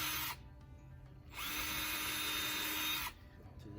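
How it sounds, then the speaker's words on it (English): A power drill bores pilot holes in pallet wood, two loud high whining bursts separated by a short pause, close up and with no speech. "I'm going to put 2 pilot holes in."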